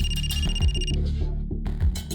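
An office telephone rings in repeated bright electronic bursts, close and loud, with a short gap before the ringing resumes.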